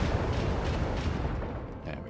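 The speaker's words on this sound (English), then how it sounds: "Unleash the storm of macro cannons." Macro cannons firing in the Rogue Trader grimdark RPG: a dense, low rolling rumble of booms, continuous and fairly soft, easing slightly toward the end.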